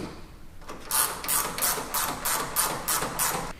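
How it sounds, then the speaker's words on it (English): A 19mm end wrench tightens the upper shock nut during a 6-inch BDS coilover install on a Toyota Tacoma, giving about eight evenly spaced, bright metallic ratcheting strokes, close and moderately loud. "Now tighten the upper nut with a 19mm end wrench"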